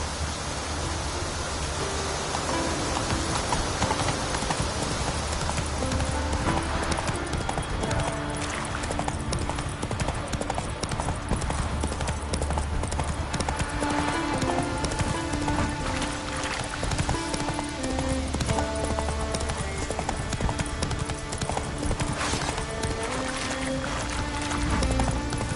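Horse hoofbeats clip-clopping steadily while riding in The Witcher 3 on PS5, a continuous galloping rhythm with occasional whinnies, loud and close over an ambient music-like background with no talk.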